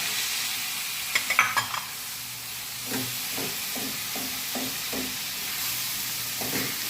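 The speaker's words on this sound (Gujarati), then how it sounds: "હવે જ્યાં સુધી દૂધી થોડી ગોલ્ડન નહીં થાય ને ત્યાં સુધી આપણે એને સોટે કરી લઈશું." Grated bottle gourd sautéing in a hot pan, with a soft steady sizzle and a series of scraping spatula stirs coming in rhythmic bursts, close and alone.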